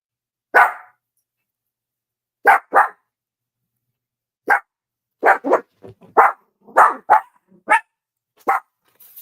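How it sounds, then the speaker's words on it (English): Dogs bark in short, sharp bursts, some in quick doubles and a final run of rapid yaps, loud and close against an otherwise silent background. "I don't feel like it, hearing y'all bark."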